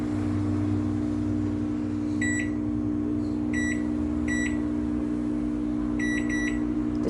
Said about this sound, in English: I'm gonna put exactly 24 minutes in the microwave